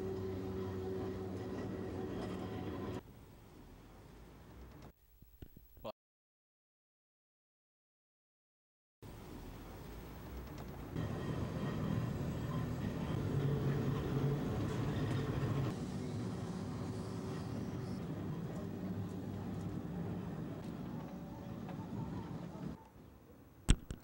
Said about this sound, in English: As far up as the tram comes.